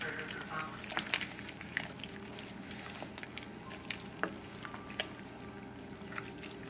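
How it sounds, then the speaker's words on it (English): Onion bisque simmering in a pot, a quiet continuous bubbling with scattered soft pops and drips, faint and steady without talk. "Now we'll let it simmer and cook for about 20 minutes."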